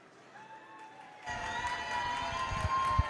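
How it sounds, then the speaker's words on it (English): A crowd of fans at a UCF versus Florida Gators game cheers and claps behind an interviewer, the noise swelling abruptly partway through into a steady, fairly close roar with scattered claps. "Big crowd behind you, huh?"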